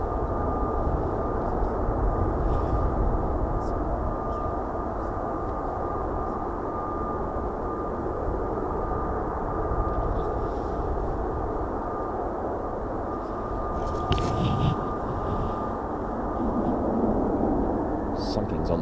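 F-35B stealth jets taxi on the ground at a naval air station, producing a steady, loud engine roar with a thin high whine that holds throughout, plus a few brief sharper bursts near the end.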